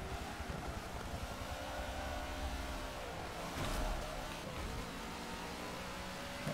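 Race cars in the Forza Motorsport 7 video game roar together in a dense, continuous engine drone during an endurance race, with a brief louder surge midway as one car passes close.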